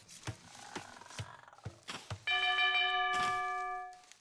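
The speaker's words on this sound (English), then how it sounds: "Seriously? A town bell?" Age of Empires II town bell ringing out during a match: a sustained, loud multi-tone bell chime starting partway through, after a series of soft clicks and thuds from gameplay, ringing steadily to the end.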